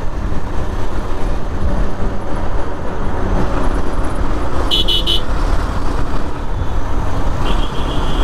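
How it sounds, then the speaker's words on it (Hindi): Passing traffic on a road with a modified Tata Altroz fitted with a single rear exhaust among the vehicles, a loud continuous rumble of engines and road noise with short horn toots midway and near the end. "क्या मस्त ऑल्ट्रोस जा रही है,"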